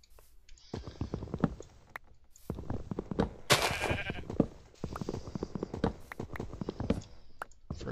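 Several sheep bleating in a barn, a run of short, wavering calls that come close together and overlap, with some shuffling and soft thumps between them.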